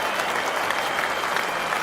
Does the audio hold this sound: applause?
yes